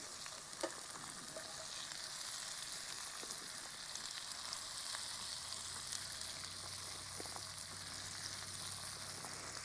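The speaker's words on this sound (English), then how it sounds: "peppers and onions always smell good when they hit that skillet." Peppers and onions sizzle steadily in a skillet at a camp cooking spot, a dense, even crackling hiss with faint occasional pops, no one speaking.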